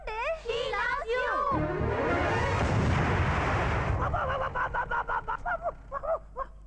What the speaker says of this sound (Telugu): పేలింది బాంబు కాదు, టైర్.